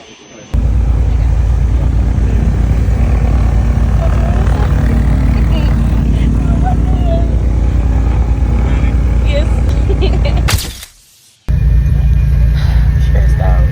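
The engine of a small propeller plane on a Bahamas island trip drones loud and constant from inside the cabin, briefly dropping away near the end before resuming.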